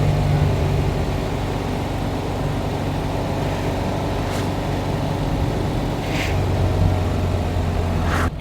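A 1971 VW Type 3 Squareback pulls hard in third gear, its engine droning loud and steady from inside the car with road noise throughout.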